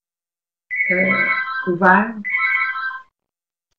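A telephone ringtone sounds in an office setting, loud and close, playing a melodic tone for a little over two seconds before cutting off, with a brief spoken word in the middle.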